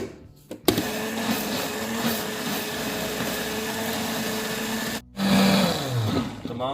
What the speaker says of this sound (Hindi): वेजिस को हमने डाल दी है ब्लेंडर के अंदर।